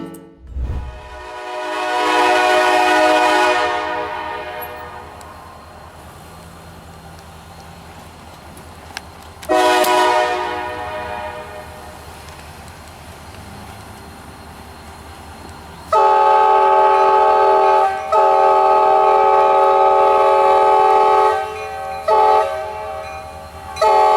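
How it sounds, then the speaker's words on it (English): An Iowa Interstate train sounds its horn in long, loud blasts, first alone, then again after a pause, then in a sustained final stretch with short breaks, over the steady low rumble of the train rushing through snow. "Watch as the Iowa interstate train barrels through the snow like a force of nature."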